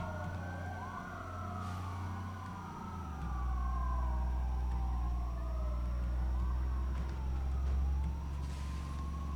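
A police siren wails in rising and falling sweeps in road traffic, moderately near, over the deep steady rumble of a vehicle engine, with a second overlapping siren tone and no talk.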